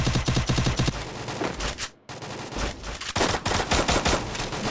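Loud, rapid automatic gunfire from the video game Free Fire rattles in dense bursts, pausing briefly midway before resuming just as intensely.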